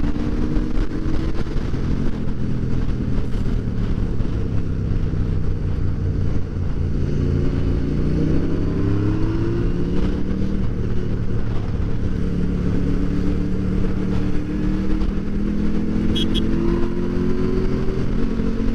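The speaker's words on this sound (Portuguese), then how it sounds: "esta moto para um escape original está um sonsaço" A KTM adventure motorcycle with its original exhaust revs and idles steadily up close, a throaty exhaust note rising and falling with clattering mechanical noise throughout, no voices.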